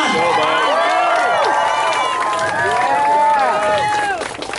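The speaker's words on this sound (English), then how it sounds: "Cheer him on." A crowd of voices cheers and shouts encouragement for an underwater Rubik's cube solver at a world record attempt, loud and close, with excited calls overlapping continuously.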